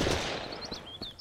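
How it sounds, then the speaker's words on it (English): Gunshots ring out in the Mist Survival game as a handful of sharp cracks, moderately distant, scattered over about a second, with short high-pitched whistling tones between them. "Who is he shooting at?"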